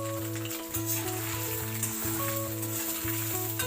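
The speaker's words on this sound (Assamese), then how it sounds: "একেখিনি তেলতে মই সিজাই ৰখা চয়াবিনখিনিও ভাজি ল'ম" Soaked soybean chunks frying in oil in a kadai, a steady close sizzle with a low background hum and faint clinks, and no voices.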